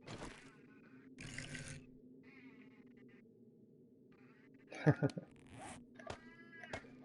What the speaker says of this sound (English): Kitty cat is very talkative right now.